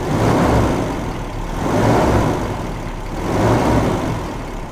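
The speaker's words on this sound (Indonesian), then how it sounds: "saya akselerasi itu lambat naiknya putaran mesin" Toyota Kijang engine with a plugged distributor vacuum hose, a loud, close engine drone that swells slowly in two rising surges as the revs climb sluggishly.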